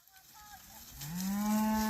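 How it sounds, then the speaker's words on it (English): A single cow lets out a long, rising moo close by on a farm, after a brief quiet stretch with faint background noise. "We're getting these cows moved in."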